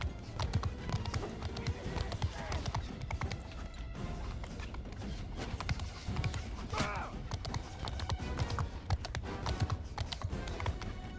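Galloping hooves from a horse in the medieval combat game Mount & Blade 2: Bannerlord, a fast continuous clip-clop rhythm under battle ambience and scattered noise.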